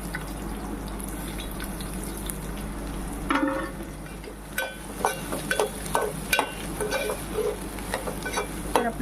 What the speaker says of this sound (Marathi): तर आपलं तेल गरम झालेलं आहे तर आपण आता पहिलं घालूया लसण नंतर घालूया मिरची आणि मग घालूया कांदा